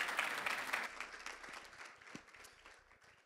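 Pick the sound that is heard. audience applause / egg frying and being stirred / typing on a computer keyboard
audience applause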